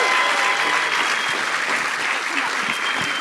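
Steady, dense applause from an audience greeting the Eco Drive award at the Future Anything national grand final, loud and continuous throughout.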